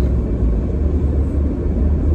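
Road traffic heard from inside a car driving home from a school run: a steady low engine and road rumble with a continuous broadband hum and no distinct events or talk.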